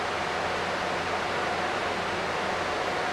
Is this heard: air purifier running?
yes